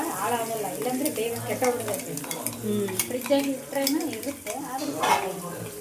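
A pan of tempering spices for chutney is stirred, with metal utensil clatter and scraping over a light sizzle, close by, irregular clinks throughout and faint voices in the background.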